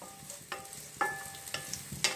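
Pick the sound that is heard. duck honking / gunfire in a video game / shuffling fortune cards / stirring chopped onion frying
stirring chopped onion frying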